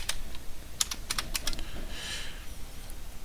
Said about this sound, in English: we'll just type in thrustcurve.com, or excuse me, .org.